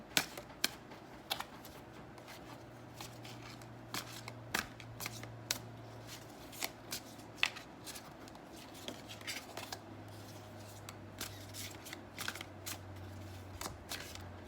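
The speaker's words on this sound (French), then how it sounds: "avec le tarot des animaux, je vais couvrir les cartes ici pour avoir plus de détails." Animal tarot cards are laid out and covered on a table, giving soft, irregular taps and brief card slaps scattered throughout, with a steady low hum underneath and no talking.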